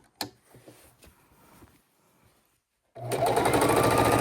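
Sewing machine stitching a quilted raw-edge appliqué table runner: a few quiet clicks and pauses as the needle is positioned, then a loud, steady run of fast stitching starting near three seconds.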